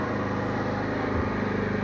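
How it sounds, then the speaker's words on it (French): A Peugeot V-Clic scooter engine runs close by in a steady low drone, its revs easing down slightly over a couple of seconds with no voices. "vous entendez, le moteur diminue d'intensité"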